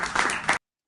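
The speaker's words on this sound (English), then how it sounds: "We getting hand claps." An audience gives a short burst of hand claps, a close, dense patter of several people clapping that cuts off abruptly after about half a second and is followed by silence.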